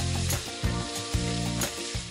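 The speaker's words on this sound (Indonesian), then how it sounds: "Udah mendidih, Bu, minyaknya? Udah bisa dimasukin?" Ground shallot, garlic, pepper and chili dropped into boiling oil, sizzling and crackling loudly with a few stirring bursts, close and with no voices.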